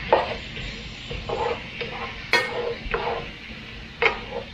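Zucchini being stirred in a pan with butter and garlic, a steady soft sizzle with a few louder scraping stirs and clinks recurring every second or so, close by with no talking.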